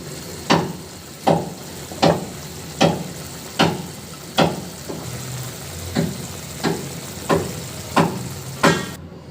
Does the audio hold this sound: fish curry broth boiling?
yes